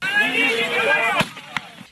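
Voices talking, then two sharp cracks of gunfire into the air a moment apart, loud and close.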